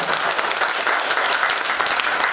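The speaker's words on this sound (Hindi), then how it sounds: "मैं चाहूँगा जोरदार तालियों से उनका स्वागत है" Loud, dense audience applause welcoming a guest at an Urdu literary gathering, a steady wash of many hands clapping with no pause.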